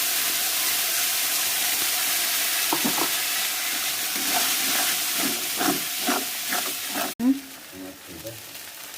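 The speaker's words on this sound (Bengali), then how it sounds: "মশলাটা ভালো করে কষিয়ে নিচ্ছি" Spice paste fries in a pan with cumin, bay leaf and browned onion, giving a steady hiss and sizzle as a spoon stirs and scrapes in repeated strokes, with a sharp knock near the end and a voice faintly present.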